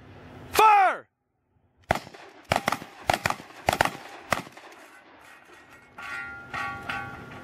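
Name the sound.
shotguns fired in a shooting competition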